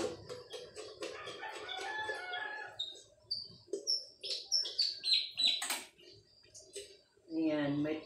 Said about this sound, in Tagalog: may huni ng ibon dito. Ganda ng tunog niya.